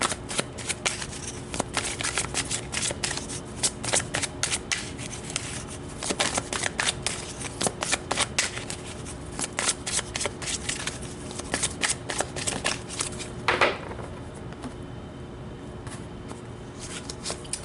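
Romance angels oracle cards being shuffled by hand for a tarot reading, a steady run of close, crisp riffling and slapping card sounds that continue for most of the stretch, with a brief pause near the end and no talk.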